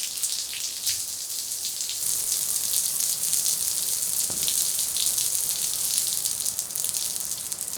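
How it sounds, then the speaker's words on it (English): Cold-water outdoor camping shower in Hawaii running steadily, open to the air, a continuous close hiss of spraying water with scattered droplet patter and no talking. "They have an outdoor shower with cold water only."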